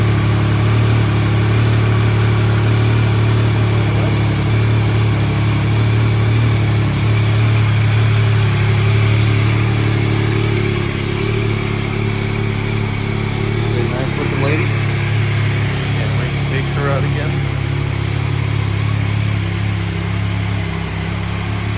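A 2022 Yamaha Tracer 9GT motorcycle engine idles steadily and loudly up close after an oil change, a continuous low drone throughout with a voice talking at points.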